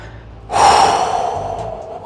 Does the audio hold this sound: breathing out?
yes